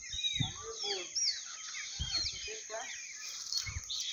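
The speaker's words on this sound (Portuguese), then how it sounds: "Caçaco, dá uma olhada, pessoal, como os passarinhos tá brabo." Agitated small birds chirp and tweet busily all the way through, with a steady high background chatter and sharp calls, outdoors on a cold day by the water, while someone talks at times in between.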